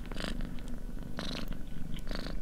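Cat purring in the horror video game Creepy Tale, a soft, continuous rumbling purr with rhythmic breathy swells, close and fairly quiet, with no talking.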